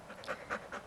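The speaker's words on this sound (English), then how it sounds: "She's a loyal dog." A loyal female dog pants, three quick breathy huffs in an even rhythm, close but soft.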